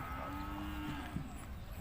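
A cow moos at a Thai cattle and buffalo market, one drawn-out low call close by with faint market background.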